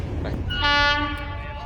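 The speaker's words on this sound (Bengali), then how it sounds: "দেখতে পাচ্ছেন এখন আমাদের ট্রেন চলে এসছে" A train pulling into a crowded station sounds a loud sustained horn with a rich stack of tones, rising over the rumble of the moving train and fading slightly at the end.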